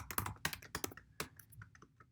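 Brisk typing on a computer keyboard while writing Python code, a dozen or so close, crisp key clicks in uneven bursts with short pauses between them.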